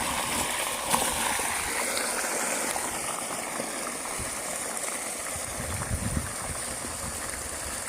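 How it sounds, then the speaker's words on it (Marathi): Water gushes steadily at full pressure from the 3-inch pipe of a KSB solar-powered farm pump, a continuous, moderately loud rushing and splashing that persists without break. "एकदम फुल प्रेशरने पाणी आलं आहे. 3 इंच पाईप आहे"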